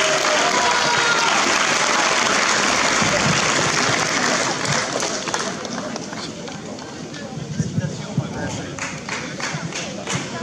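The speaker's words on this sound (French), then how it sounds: "On peut les applaudir, effectivement." Audience at a youth chess championship prize ceremony gives dense, sustained applause that stays loud and then thins slightly into scattered claps, with a voice speaking faintly beneath.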